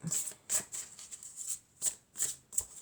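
Oracle cards are shuffled by hand in a steady run of soft, crisp riffling bursts, about eight quick papery pulses close to the ear with brief gaps between them.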